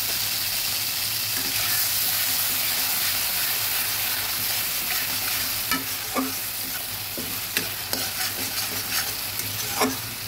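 Mustard paste goes into hot oil with turmeric and is stirred in a pan, producing a steady soft sizzle broken by scattered scraping clicks of the spatula in the last few seconds, with no one speaking.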